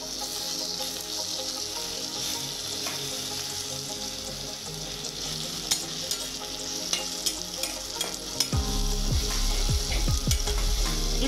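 Egg poha cooking in a pan, a steady sizzle with spoon scrapes and soft clicks as it is gently stirred and smashed, getting louder and more scrapy near the end, no talking.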